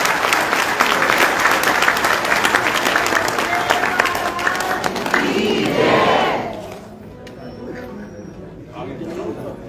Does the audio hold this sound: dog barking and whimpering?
no